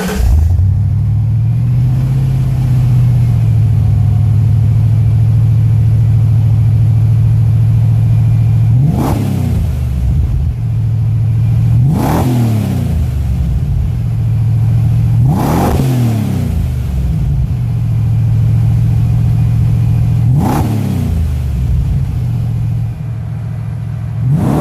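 A 1997 BMW M3 E36 with a swapped Ford V8 idles with a deep, steady rumble, then is blipped four times in sharp revving bursts that rise and quickly fall back to idle, loud and close with no talking.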